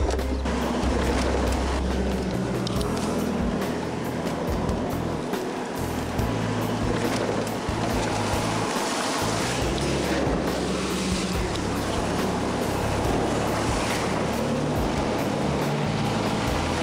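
A Triton truck ploughs through ocean waves in salt water, heard from inside the cab as a loud continuous roar of engine and rushing surf with thumps and splashes.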